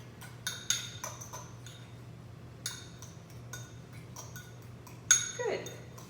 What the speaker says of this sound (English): So I'm going to mash the sardines here. Just mash it up, mix it up.